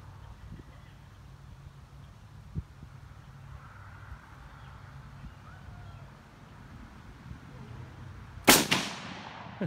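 A single loud, sharp gunshot from a .356 Winchester rifle fired outdoors near the end, with a quick decaying echo, after a stretch of quiet ambient hum.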